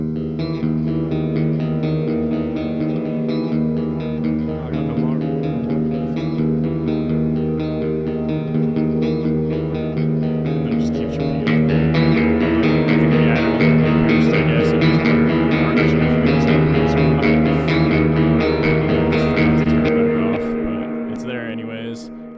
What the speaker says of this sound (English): I guess you would call this a dirty clean tone with a shit ton of delay.